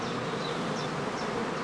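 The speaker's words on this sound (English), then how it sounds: "If the bees are restless and tend to run back and forth in the beeways" Restless honeybees at a hive before swarming on Lower Saxony heathland, a dense continuous buzz with individual bees whining past close by.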